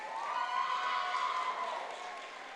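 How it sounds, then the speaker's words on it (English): A theater audience at a student film screening gives a round of applause for the teaching artists: a steady, even wash of clapping and cheering at moderate distance, without pause. "Let's give one more round of applause to these teaching artists."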